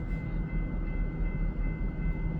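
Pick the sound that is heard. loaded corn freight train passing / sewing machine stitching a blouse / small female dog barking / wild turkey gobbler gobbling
loaded corn freight train passing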